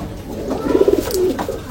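A Rampuri pigeon lets out one short, close, throaty coo with a fluttering rise and fall, heard on its own.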